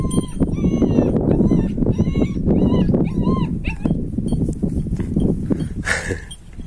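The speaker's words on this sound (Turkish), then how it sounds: "Hayvan o tarafa gidiyor, bu tarafa geliyor, arkamdan geliyor sanıyor, arkaya hav hav diyor." A dog close by whimpers and yips in rising, wavering whines with a few sharp barks mixed in, restless and excited, over a constant rumbling background.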